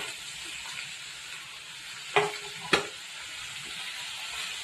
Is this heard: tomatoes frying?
yes